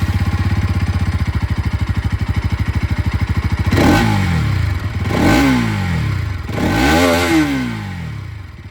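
A Bajaj Pulsar NS200 motorcycle with an underbelly exhaust idles with a loud, fast, even thump, then revs up sharply three times, each rise falling back toward idle, close by.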